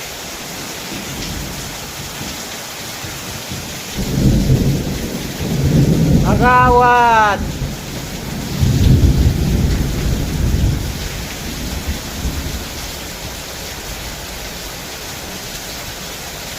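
Heavy monsoon downpour hisses steadily over a village while thunder rolls in two loud, drawn-out rumbles near the middle; a voice briefly speaks over the storm.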